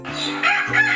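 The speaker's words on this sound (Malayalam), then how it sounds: "ചെമ്പൻ കോഴി കൂവി." A russet rooster crows close by, one loud, strained call with rising and falling harmonic bands lasting about a second, with no talk over it.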